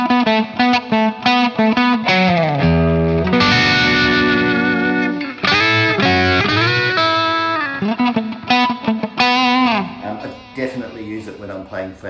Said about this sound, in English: in the middle position, it's sort of like a weird, funky, sort of out of phase type of sound